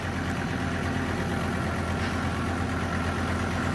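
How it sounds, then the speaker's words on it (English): A tractor engine runs steadily at a low idle-like rumble while riding downhill, a continuous close mechanical drone with no talk. "I'm riding on Derrick's tractor down to the bottom of the hill"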